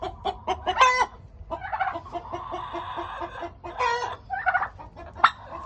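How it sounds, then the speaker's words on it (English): Chickens on a farm cluck and squawk in repeated bursts, some drawn-out calls among short clucks, fairly close with no talking. "More chickens."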